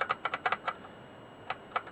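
Keys tapped on a ZX81 external keyboard under repair: a quick run of six or seven sharp clicks, a pause, then a few more isolated presses, close and clear with no talking.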